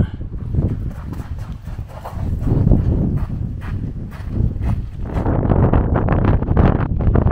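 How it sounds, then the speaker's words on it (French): Strong wind sweeps through the Caldera de Los Cuervos volcanic crater on Lanzarote in the Canary Islands, buffeting the microphone with loud, continuous rumbling gusts that swell and ease without pause. "Il y a beaucoup de vent."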